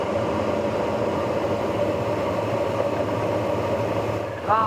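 A Sling High Wing light airplane in flight near Torrance drones at reduced power, a steady, loud engine hum that continues throughout, with a brief faint radio chirp near the end.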